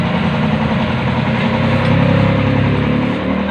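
A Honda Click 125 scooter engine runs steadily at a close, loud, even idle with a slight rise in revs midway, with no voices heard.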